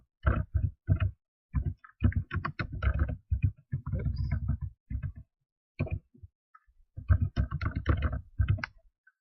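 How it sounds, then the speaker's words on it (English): Typing on a computer keyboard, with bursts of close, clattering keystrokes separated by short pauses. "then type your last name"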